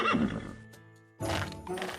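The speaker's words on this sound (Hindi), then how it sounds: "क्या ये वही घोड़ा है जिसके बारे में तुम बात करते हो?" A cartoon horse in a Hindi animated story gives a loud whinnying neigh, then a short silent gap, then another burst of neighing, all close and clear with no talk.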